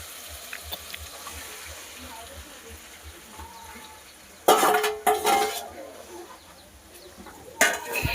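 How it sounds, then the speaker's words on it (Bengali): Meat tipped into a hot pan of fried spices and stirred, giving a sudden loud sizzling splash followed by scraping and a second hiss, with faint kitchen background before it and no talk. "এবার আমি মাংসটা ঢেলে দেবো।"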